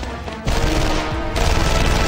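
Gunfire in an action-packed teaser for the Black Rider series, with loud, dense bursts of rapid shots filling the short stretch alone without talk.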